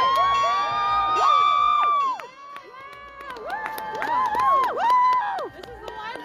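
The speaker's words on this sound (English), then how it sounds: "Let's cheer for the graduates!" Crowd at a university commencement cheering and whooping for graduates, many overlapping high shouts and calls, loud and lively with a brief lull midway before rising again.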